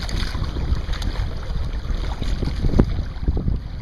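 Strong crosswind gusting over a lake whipping up whitecaps during bass fishing, heard as loud buffeting wind noise on the microphone with churning water and slapping waves against the boat, with no talking.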